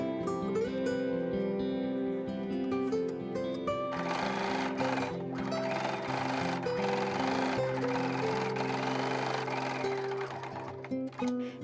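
A sewing machine edge stitches bias tape wrapped around a fabric seam allowance, running with a steady, rapid mechanical whirr for several seconds, close by.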